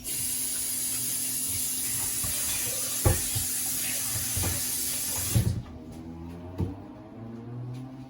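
Water hisses and steams loudly in a pot of callaloo on the stove, a steady spraying sizzle with a few small knocks that cuts off abruptly, leaving a quieter low bubbling.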